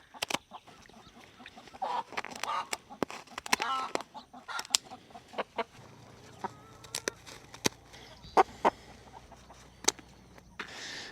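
Chickens cluck and squawk close by in repeated sharp bursts while birds are caught from a flock for wing clipping, with a faint low hum underneath.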